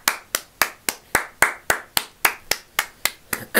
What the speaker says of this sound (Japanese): 皆さん拍手を送りましょう。